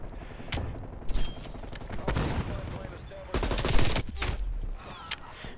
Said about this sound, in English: the AK-74 is fucking absurd